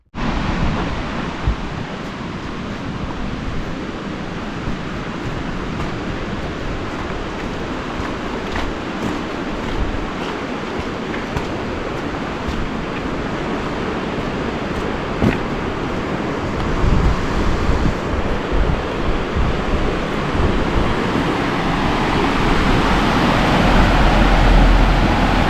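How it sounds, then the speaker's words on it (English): Flowing water of the Strontian river in the Scottish Highlands, a broad, continuous rushing wash heard up close, mixed with gusty wind buffeting the microphone, growing slightly louder toward the end. "So this is the Strontian river"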